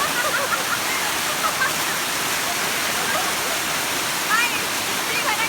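Bang Hoi waterfall in Khao Sok, Surat Thani, roars as a steady, dense hiss of falling water, constant and close, with faint voices in the background.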